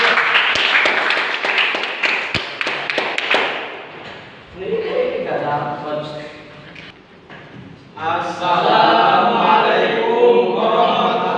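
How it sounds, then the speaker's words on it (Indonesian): Classroom audience at a university gives a short burst of clapping for a student group about to present, fading after a few seconds into talking voices. "Kita beri tepuk tangan untuk kelompok 2."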